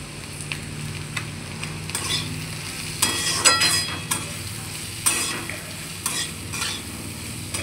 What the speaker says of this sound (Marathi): छान परतून घ्यायची, डाग पडेपर्यंत परतून घ्यायची अशीच तेलामध्ये